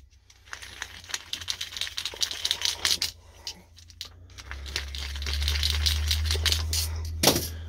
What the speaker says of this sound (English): So we have this cut, we're gonna ream both ends.